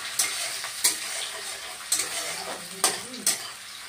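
Onions fry in oil in a pan, a steady sizzle under repeated spatula strokes that clink and scrape against the metal every second or so, close by and with no voices.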